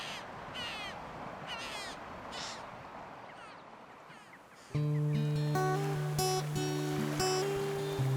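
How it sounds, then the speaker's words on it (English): Young choughs squawk on the sea cliffs at Castlemartin in Wales, with repeated harsh, raspy caws in short bursts at moderate distance, then music swells in and plays over the later calls. "Young choughs can be heard squawking away on the cliffs"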